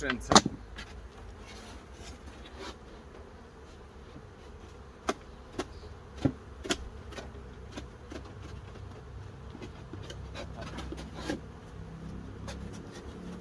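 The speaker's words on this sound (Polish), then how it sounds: "pszczoły zostały jeszcze" A steady, faint buzz of many honeybees around a hive hums throughout, with scattered clicks and knocks of frame handling close by.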